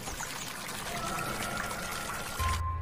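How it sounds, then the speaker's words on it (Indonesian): Steady running water pours continuously from an outdoor tap beside a villa, a broad hiss that holds throughout before cutting off near the end. "mendengar suara air yang keluar dari keran samping villa itu"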